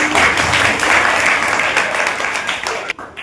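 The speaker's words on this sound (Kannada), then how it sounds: "ಜೋರಾದ ಚಪ್ಪಾಳೆ." An audience at a government school event, where books and stationery are handed out to children, breaks into loud, dense applause that stays strong and steady before cutting off abruptly.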